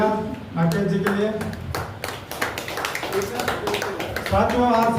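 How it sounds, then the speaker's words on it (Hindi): Loud applause breaks out for Rakesh as he is presented with a gift at a friendly gathering, with sharp, irregular hand claps running throughout under ongoing speech. "जोरदार तालियां राकेश जी के लिए"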